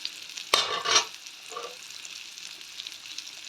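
A pot of coconut milk rice simmering in a village kitchen is stirred once, with a sharp scrape and a brief clatter followed by a steady low bubbling hiss, and no voices.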